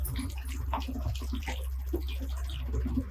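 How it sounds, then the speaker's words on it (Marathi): Boiled water pours and splashes into a pot of potato gravy in a continuous gurgling stream, close and moderately loud, with no voices. "आता यामध्ये हे उखळलेलं पाणी ओतूया"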